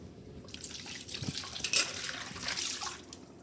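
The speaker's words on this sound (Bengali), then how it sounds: "এখন আমি মাছগুলো পরিষ্কারভাবে ধুয়ে নিলাম।" Prawns being rinsed under a running kitchen tap, a soft splashing water stream with small drips and handling noises, fairly quiet and without talk.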